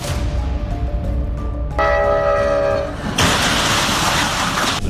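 A moving train near Thackerville, Oklahoma, rumbling loudly on the tracks, with a sustained horn blast in the middle and a harsh roaring rush toward the end, close and loud.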